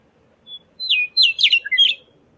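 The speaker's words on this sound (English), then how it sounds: "the western meadowlark. That's another one that has very much declined." A western meadowlark sings a single short, clear phrase of fluting, descending whistled notes, close and loud against a quiet background.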